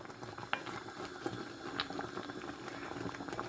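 Ogbono soup boiling in a pot with okra and spinach, a continuous close bubbling and popping with small irregular liquid splashes, steady and fairly loud, with no speech.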